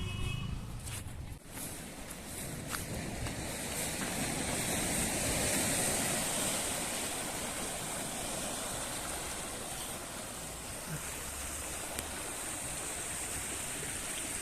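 Sea waves wash steadily onto Bhadkeshwar beach in Dwarka, a continuous broad roar of surf, fairly loud and close, with no clear breaks between the washes and wind-like hiss over the top.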